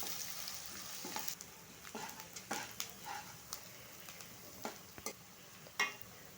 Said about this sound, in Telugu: మనం కట్ చేసుకున్నటువంటి ఆనియన్స్ పచ్చిమిర్చి వేసుకొని ఒక రెండు మూడు నిమిషాలు మగ్గించుకుంటే సరిపోతుంది